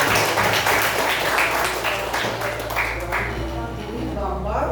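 A classroom full of pupils claps together during a Hindu religious education lesson, a dense, steady patter of many hands held for several seconds beneath a teacher's voice.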